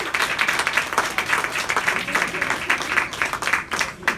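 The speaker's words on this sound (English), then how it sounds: "A big round of applause for our leaders here." Applause from an audience at a Montgomery County community happy hour gathering, dense steady clapping from many hands sustained for the whole stretch, fairly close and lively with a few brighter individual claps standing out.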